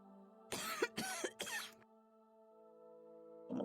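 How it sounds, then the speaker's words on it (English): Three quick, close coughs from a character in the Morrowind video game, set against a quiet background of steady tonal hum, with a faint sound starting at the very end. "Someone coughing here."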